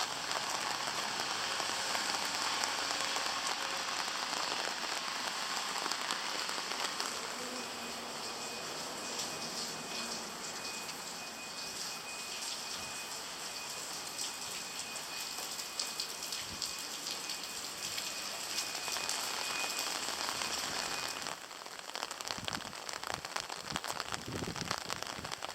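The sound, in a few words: rain falling on Shikoku pilgrimage route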